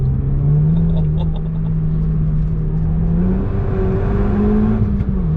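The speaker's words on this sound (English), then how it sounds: "the amount of pops you get out that exhaust are just" Renault Mégane Trophy R hot hatch idling and revving, a steady close engine rumble with the pitch rising and falling and a few faint crackles from the exhaust, no talk.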